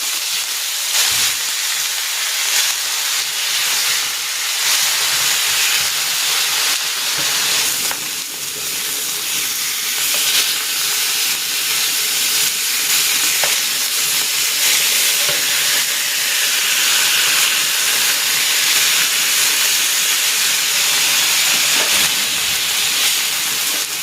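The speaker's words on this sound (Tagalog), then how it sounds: "Maglalagay ako ng konting cooking oil. I-sear ko muna itong liempo." Pork belly searing in a little cooking oil, a loud, continuous hissing sizzle that holds steady throughout with faint crackles and occasional stirring, no voices.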